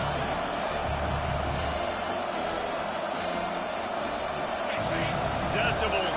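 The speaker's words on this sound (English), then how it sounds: "Decibels rising as the crowd gets behind this defense on third down" Crowd noise roars steadily through a college football stadium, Gridiron League against Texas A&M, as fans rally behind the defense on third down late in the first half; a broadcast voice talks over the continuous din.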